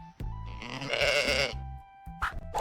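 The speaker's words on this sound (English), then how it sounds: "It's a sheep." A sheep bleats once in a long, wavering, nasal call on a farm, followed by a couple of shorter, quieter bleating bursts, with no talking over it.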